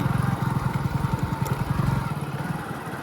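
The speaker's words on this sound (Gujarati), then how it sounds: "તો મિત્રો આપણે બાઇક લઈને નીકળી જઈએ" A motorcycle ridden along a village road, its engine thrumming in a steady, rapid pulsing beat close by, with a constant mid-range drone and some wind over the top, no talk.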